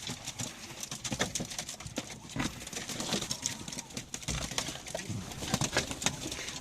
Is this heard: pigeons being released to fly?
yes